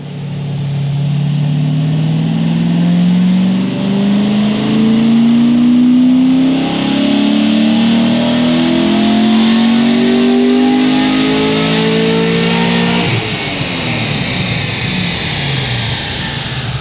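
Race Proven Motorsports Stage 4 Corvette C6 Z06 engine on a dyno run, loud and close, pulling in one long rising rev through the gears before the throttle lifts and the pitch drops away near the end.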